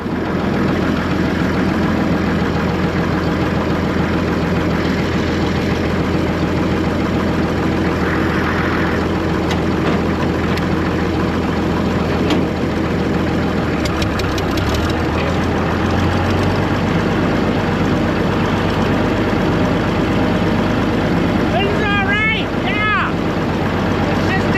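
The engine of an old, once-abandoned CASE tractor runs steadily, a loud, continuous low chugging drone that holds throughout. Voices can be heard over it now and then.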